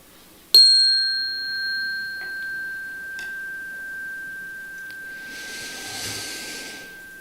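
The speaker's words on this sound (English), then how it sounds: "we sound a chime to set up a vibration of oneness" A chime is struck once at the start of a morning service, giving a sharp clear strike and then a long pure ringing tone that sustains and slowly fades, with faint room noise and no talk.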